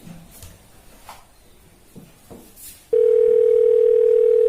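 Telephone call tone on an outgoing call: after a few soft background knocks, a loud, steady, unbroken electronic tone begins and holds to the end.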